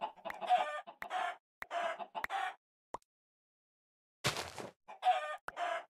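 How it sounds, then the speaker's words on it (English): Chickens in the Minecraft modpack Sevtech Ages give a run of close, loud clucks and squawks in quick bursts, with a brief pause and then another sharp outburst. "Ooh, chickens!"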